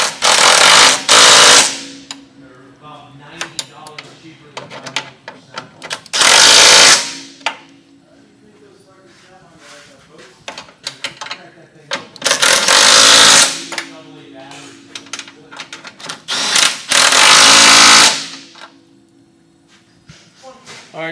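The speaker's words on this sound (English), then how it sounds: "I'm gonna go ahead and tighten these up" Bursts of a power tool tightening the steering drag link bolts on a 1938 Packard Super 8 bell crank steering repair, four loud separate runs of a few seconds each, with quieter clanking and someone talking between them.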